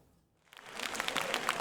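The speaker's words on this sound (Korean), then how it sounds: "여당석에선 박수가 터져나왔고" Applause bursts out from the ruling party benches in a parliament chamber during a vote on a government reorganization bill, rising from near silence into steady, dense clapping.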